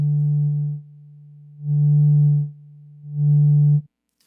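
A pure, low sine tone from the Serum synthesizer, played on an MPE controller, sounds three times in sustained pulses separated by short silences, loud and steady.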